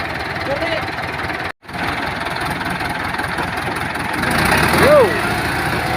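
Heavy tractor engine running steadily during a heavy-equipment recovery, a continuous low rumble with a louder surge near the end, accompanied by people talking.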